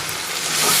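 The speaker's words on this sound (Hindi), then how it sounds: "और साथ ही 1 गिलास पानी का डालेंगे" Water from a glass poured into masala frying in a pan for a besan bele curry, rising into a loud, broad hiss and sizzle that swells toward the end.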